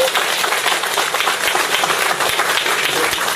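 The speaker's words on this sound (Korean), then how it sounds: "이것도 한번 요 대목에서 박수." An audience claps steadily through the whole stretch, a dense, even wash of many hands with no pauses and no talking over it.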